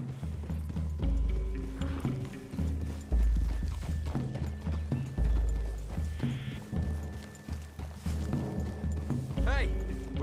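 Horse hooves clip-clop steadily through a wooded clearing in the Red Dead Redemption 2 video game, a close rhythmic walking beat beneath ongoing character dialogue.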